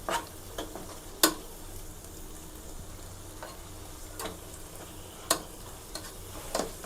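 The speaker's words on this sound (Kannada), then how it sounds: "ಗೋಡಂಬಿ ದ್ರಾಕ್ಷಿ ಹುರ್ಕೊಂಡೋದನ್ನು ಹಾಕಿ ಚೆನ್ನಾಗಿ ಮಿಕ್ಸ್ ಮಾಡಿ" Watermelon peel halwa is stirred in ghee with fried cashews and raisins, giving a soft steady sizzle broken by occasional scraping ticks of the spoon, heard close with no talking.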